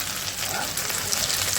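Spices sauté in a pan, giving a brief, even sizzle with a soft crackling hiss and no talking.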